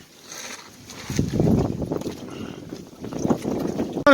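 Gusty outdoor wind buffets the microphone in uneven low rumbling surges that rise and fall over a few seconds, with a sharp bump at the very end.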